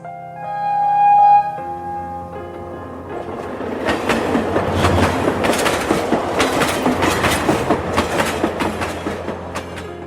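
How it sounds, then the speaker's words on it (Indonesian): A train passes close by on railway tracks behind a wall beside a quiet street at night, its loud rumble and rhythmic clickety-clack of wagon wheels building after a brief tonal hum and continuing steadily. "Makanya tak heran tiap beberapa saat terlihat kereta api melintas."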